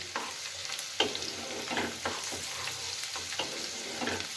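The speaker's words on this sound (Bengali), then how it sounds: "কিছুটা আদা কুচি আর কাঁচা লঙ্কা কুচি দিয়ে দিলাম এর মধ্যে দিয়ে খুব ভালো করে এটাকে একটু ভাজে ভাজে করে নিচ্ছি" Chopped ginger, green chilli and garlic stir-fry in hot oil with a steady sizzle, punctuated by regular clacks and scrapes of a spatula against the pan, close and alone.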